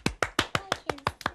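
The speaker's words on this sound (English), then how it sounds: "Let's give Hayley a clap." Children clapping for the winner, Hayley, in a quick, even burst of about eight sharp, close claps with no talk over them.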